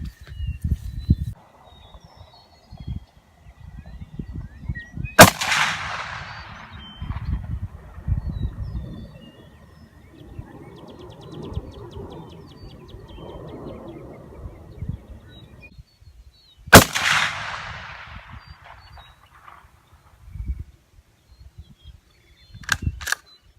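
Two loud, sharp Mosin M38 rifle shots ring out at an outdoor range, well spaced, with soft rustling and handling noise between them.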